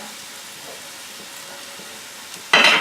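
Chicken for tikka masala fries in a pan over medium-high heat, a quiet, steady sizzle close by, ending in a brief louder burst of crackling as spices hit the hot oil.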